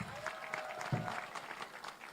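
Audience applause at a gift presentation ceremony, a steady patter of clapping lasting throughout, with a brief low thump partway through.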